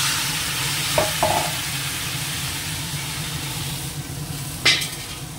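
Pumpkin curry seasoned with fish turmeric, salt and coriander-cumin powder simmers and sizzles steadily in a pan after water goes in, with a few brief utensil scrapes and clinks.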